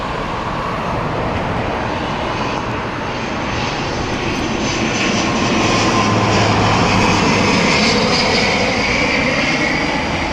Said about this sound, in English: Here comes the ATR of Logan.